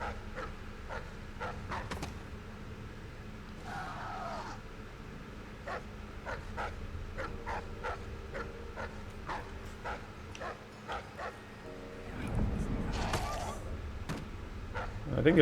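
A guard dog in Dishonored 2 barks in short, sharp, repeated yelps at a moderate distance, snarling as it attacks, over faint ambient hum with a brief burst of struggle noise toward the end.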